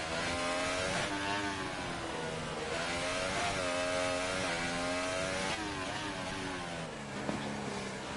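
Onboard race car engine in a racing game, a loud, continuous high-revving whine whose pitch climbs and drops repeatedly through gear changes and corners, dominating the whole lap segment with no talk.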